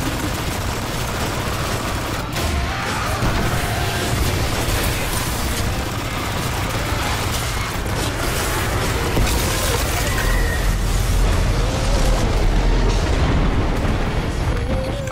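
A sticky grenade explodes in Destiny amid the rumble of a heavy firefight, with continuous loud booms and bursts blending into a dense roar while voices talk over it.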